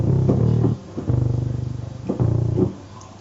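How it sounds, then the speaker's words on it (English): Growling bass synth patch from a Maschine Monarch, played loud and close in three sustained, buzzy held notes with a grinding, modulated low end, short gaps between them, and no talking. "This is more like a growl bass."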